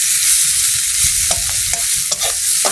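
Ginger, cumin and chili frying in oil in a pan on a gas stove, with a spoon scraping and stirring in short clacks over a steady close sizzle.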